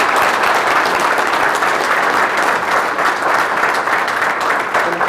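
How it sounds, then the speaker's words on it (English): Loud, sustained audience applause at an annual big event keynote, a dense, steady wash of clapping from a large crowd filling the whole stretch without pause. "So a round of applause."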